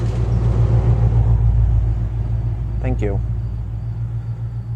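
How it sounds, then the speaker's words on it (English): Heavy road traffic rumbles loudly and steadily, with low engine drone from passing vehicles filling the whole stretch while a person briefly speaks over it. "Why all the traffic today? With all the loud vehicles, too."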